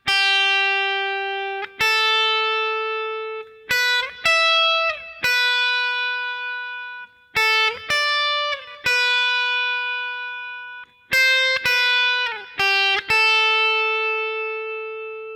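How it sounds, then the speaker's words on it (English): Clean electric guitar plays the single-note intro riff of a song alone, notes ringing and sliding with short pauses between phrases, close and steady in volume. "And that's it for this single note entry riff,"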